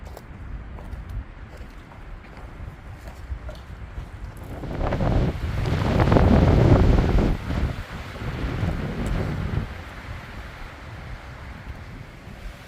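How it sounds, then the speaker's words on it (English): Strong wind buffets the microphone on a forested Arizona Trail descent from a big canyon, a steady roar that surges loudest midway and then eases, with no voices. "Wind is strong here,"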